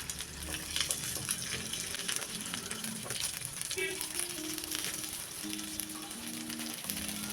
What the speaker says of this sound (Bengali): তো কিছুক্ষণ পর আমরা স্টিকগুলোকে এভাবে ঘুরিয়ে নেব, ঘুরিয়ে দুপাশে সুন্দর করে ভেজে নেব